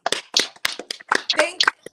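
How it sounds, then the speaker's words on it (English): An audience claps during a live morning show, a short burst of close, uneven hand claps and cheering mixed with voices. "Let's clap it. Come on, let's clap."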